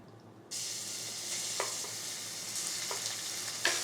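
Crushed garlic, ginger and cardamom sizzling in hot oil for pepper chicken, a steady bright crackle that starts abruptly as the aromatics hit the pan, with a few soft stirring clicks.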